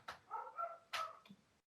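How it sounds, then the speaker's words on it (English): Dogs give a few quick, moderately faint barks and yips, spaced irregularly over a second and a half. "You can hear my dogs barking."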